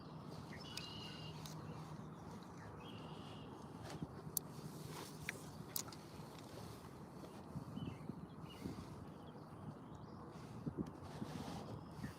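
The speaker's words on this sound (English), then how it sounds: "The wind's picking back up again" Wind blows steadily outdoors on the water during a fishing trip, a constant rushing buffet against the microphone with faint scattered sounds but no talking.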